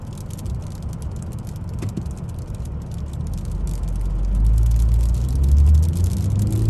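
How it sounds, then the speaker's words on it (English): Morning traffic rolls past on a road in Vermont, with low rumbling engines and tire noise that swell as a vehicle draws near around the middle and then fades, no talking. "Traffic first thing in the morning for Vermont."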